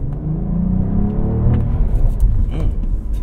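A Cadillac CT4-V Blackwing's engine rumbles loudly from inside the cabin as the car accelerates, a steady rising drone with a faint higher whir, and no talk over it.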